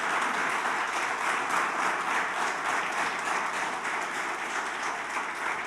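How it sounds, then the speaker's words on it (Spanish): Steady, dense applause from a church congregation fills the whole stretch at an even level, with no voices over it. "Porque le das un aplauso al Señor entonces."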